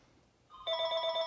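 A telephone rings with a bright, steady electronic tone that starts about halfway through, fairly faint and alone with no talking.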